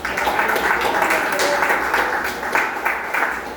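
A church congregation at an Assembleia de Deus service claps together in a sustained, rippling round of applause that fills the room, with some voices mixed faintly beneath.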